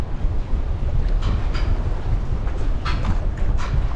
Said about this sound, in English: This wind is just insane.